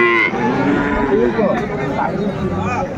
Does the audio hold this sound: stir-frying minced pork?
no